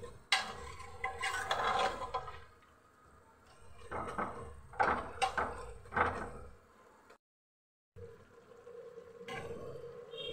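Kidney beans stirred and fried in masala in a pan, with bursts of spoon scraping and clattering broken by short pauses and a brief silent gap, then more stirring.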